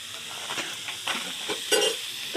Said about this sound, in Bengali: আর বিট গাজর ভাজা হচ্ছে।